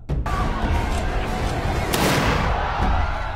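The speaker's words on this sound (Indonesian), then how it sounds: "Sersan Bill melepaskan tembakan ke panggung duel itu" Film gunfire as Sergeant Bill shoots at a gangster duel stage, a loud boom-heavy blast and rumbling burst filling a short, dense, chaotic stretch.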